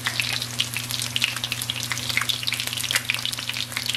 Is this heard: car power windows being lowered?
no